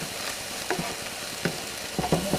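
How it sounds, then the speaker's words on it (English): An egg being scrambled and mixed into beef and sugar peas in a hot pan makes a steady sizzle broken by a few short scraping stirs, heard up close with no voices. "And we're going to scramble the egg up"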